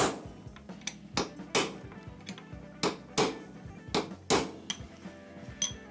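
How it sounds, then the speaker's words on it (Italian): Sharp metallic hammer strikes ring out in an irregular series, about a dozen clanging blows with short ringing tails, fairly close, while replacing steering bearings on an Aprilia Dorsoduro motorcycle. "Le due martellate le abbiamo tirate"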